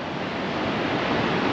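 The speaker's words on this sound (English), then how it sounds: "there's some cool waves through there" Rough, chaotic ocean surf at Coffin Bay National Park roars as a steady broadband wash, loud and continuous with wind noise, no voices.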